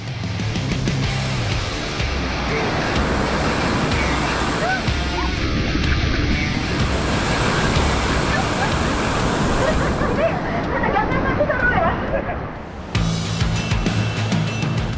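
Ocean waves crash against coral rock walls at Jujugan beach, loud and continuous surf with spray and rushing water, voices murmuring faintly beneath the roar before a short lull near the end.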